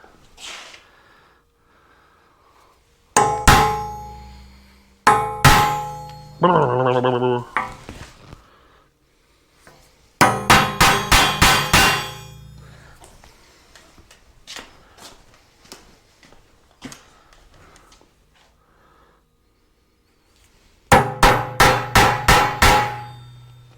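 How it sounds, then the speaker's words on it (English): Sharp metallic strikes of a claw hammer on a steel punch against a heavy steel benchtop, delivered in quick clusters of four to six blows separated by pauses of quiet. "I'm using my claw hammer that I got here"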